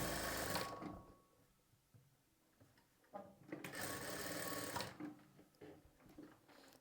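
A sewing machine stitches a garment lining in two bursts, the first at the start and a louder run in the middle, with quieter handling sounds between.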